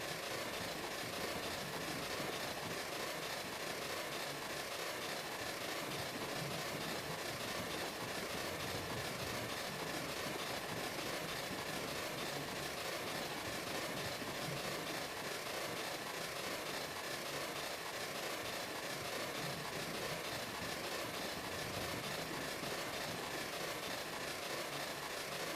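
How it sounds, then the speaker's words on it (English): Two steam locomotives crossing a large bridge in the Railroads Online video game, a continuous loud rumble and chuffing roar that runs steadily throughout, slightly out of sync, with no talk. "They're just far enough out of sync you can still hear them as two individual locomotives."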